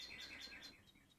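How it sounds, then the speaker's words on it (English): Birds chirp outside a window, with a few quick, high tweets repeating faintly in the distance over a soft room background. "Probably all hear the birds outside the window or the door."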